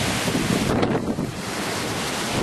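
Strong cyclone wind roars steadily through palm trees during a tropical storm, a loud, broad, continuous rush with gusty swells and no voices.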